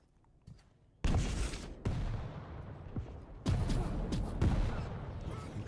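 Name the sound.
rocket fire in a video game duel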